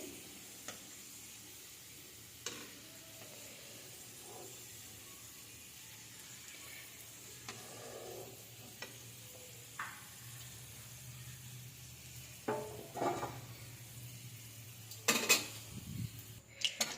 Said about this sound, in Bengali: আজকে আমি রসুন ভাজছি।